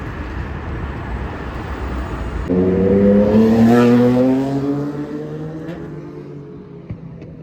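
A London bus roars past in the street, its engine swelling loudly from a background rumble of traffic, peaking midway, then fading as it moves off.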